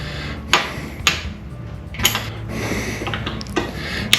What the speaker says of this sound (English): Now I'm going to take my nylon lock nut and I'm going to run it up tight here against my flat